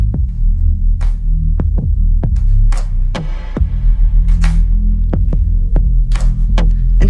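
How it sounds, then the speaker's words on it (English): Deep bass and the low thump of a kick drum in atmospheric electronic music from the QuadroSphere app, a steady loud low-end throb with kick hits recurring roughly every half second to second. "That's just the low end. Just the bass and the kick, or the bottom of the kick."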